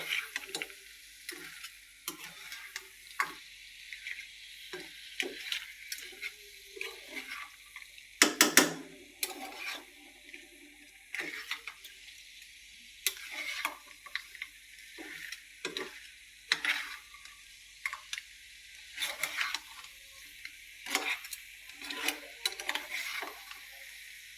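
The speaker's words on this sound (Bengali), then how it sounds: "আমি মশলার সাথে কাঁকড়াগুলোকে মিশিয়ে নিলাম ভালো করে" Crabs fried in a pan and stirred with spice paste give a steady sizzle with repeated spatula scrapes and stirring clatter throughout, close and without talking.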